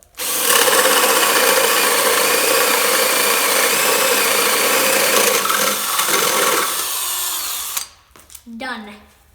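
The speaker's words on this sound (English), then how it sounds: "So this is 1 inch on the drill." A 1-inch speed bore bit on a power drill chews through a wooden board, a loud steady whine lasting about eight seconds before it stops abruptly, with a brief voice afterward.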